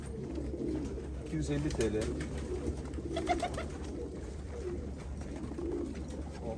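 Pigeons coo softly in the background beneath a voice speaking, a low, steady murmur of calls throughout.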